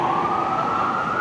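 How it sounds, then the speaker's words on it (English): An ambulance siren wails through Midtown Manhattan rush-hour traffic, a loud, steady high tone over a low rumble of vehicles. "There's an ambulance."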